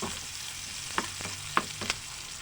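Beef and bitter melon (ampalaya) frying in a pan, with a few sharp scrapes of stirring over a steady soft sizzle.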